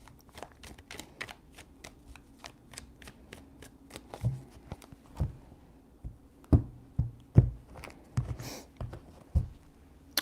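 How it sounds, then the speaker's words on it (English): Tarot cards shuffled three times in a row, giving soft repeated riffling flutters and sharper card snaps and taps that grow louder toward the end, close by with no voices. "3 shuffles"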